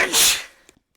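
A single sharp sneeze bursts out close to the mic during a tabletop Dungeons & Dragons session, then fades into quiet with a faint breath or two afterward.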